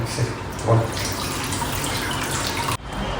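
Tap water runs steadily into a sink while raw chicken legs are washed, a continuous close splashing hiss with a brief interruption near the end.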